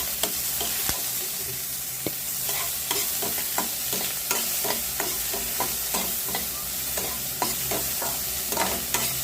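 Onion, green chili and ginger paste fries on low heat in a pan, with a steady close sizzle broken by frequent sharp scrapes and clinks of a stirring spoon throughout.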